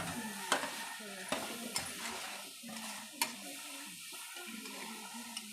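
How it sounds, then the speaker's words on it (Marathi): Curry leaves being stirred in a pan for soya bhurji, with a quiet steady sizzle under it and a few light spoon clinks and scrapes against the metal. "चला हलवून घ्या"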